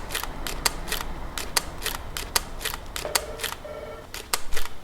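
A Nikon D600 DSLR shutter fires again and again in quiet mode close by, a quick irregular run of about fifteen soft, crisp mechanical clicks over a faint background hiss.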